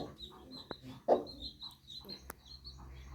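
A hen softly clucking among her brood of twelve chicks, with faint high peeping from the chicks throughout; quiet and somewhat distant, with a few sharp clicks.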